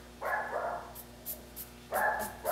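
Pet dogs bark in a home, two close bursts of sharp, repeated barking with short yips in between, separated by a brief lull.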